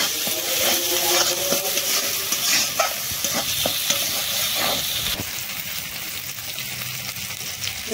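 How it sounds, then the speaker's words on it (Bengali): Pointed gourd frying in mustard-style preparation, a loud steady sizzle with frequent scraping and clinking stirs of the spatula against the pan, close up and wordless, easing slightly in the latter half. "ভেজে নেবো।"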